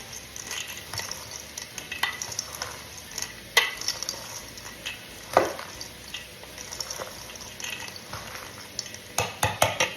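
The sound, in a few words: stirring cheddar cheese into a sizzling pan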